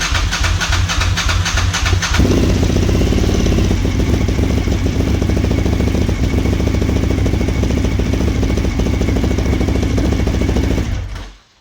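A neglected Suzuki TL1000R motorcycle engine cranks in a few rhythmic pulses, catches after about two seconds, then runs loud and rough close by for roughly nine seconds before cutting off abruptly.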